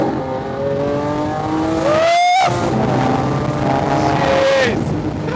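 Lamborghini Aventador accelerating hard in second gear from inside the cabin, loud rising engine wail with a sharp shift break near the middle, then climbing again at high revs.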